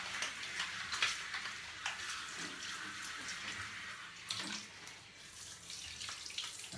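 A tap runs steadily into a sink or tub while a cat is bathed and its head washed, a continuous close splashing stream with occasional louder sloshes and drips.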